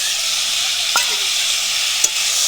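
Continuous hissing sizzle of ground spice paste frying in oil with salt and turmeric for a pumpkin stem and fish curry, broken by two brief scraping stirs.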